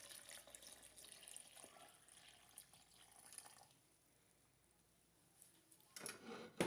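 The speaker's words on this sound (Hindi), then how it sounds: "और पानी ऐड करेंगे हम तकरीबन 3 गिलास।" Water trickles and splashes faintly into a blender jar, about three glasses poured for cucumber sharbat, a soft pouring sound that fades, followed by a brief louder clatter at the end.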